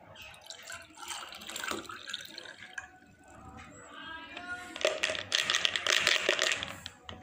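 Sprouting lotus seeds are tipped back into a glass of water with soft splashing and trickling. The pouring grows louder and denser toward the end.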